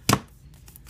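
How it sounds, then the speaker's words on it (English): A short, sharp tearing rip sounds once up close, followed by faint rustling. "And pull another piece of tape,"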